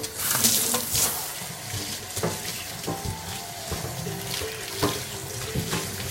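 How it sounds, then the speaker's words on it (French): Running tap water rinsing a pug during grooming at a Paris salon, a steady close splashing stream with irregular spatters as the water hits the coat. "Et là on rince tout de suite maintenant."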